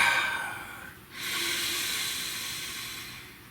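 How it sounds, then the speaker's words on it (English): One close, deep breath: a long airy inhale that breaks off briefly, then a steady breathy exhale with no talking. "Breathe."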